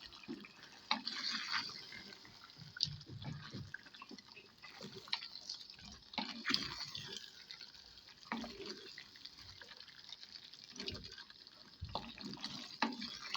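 Water trickles and splashes into a clay pot of aloo gosht with a continuous running sound, some clinks and drips over a background hum.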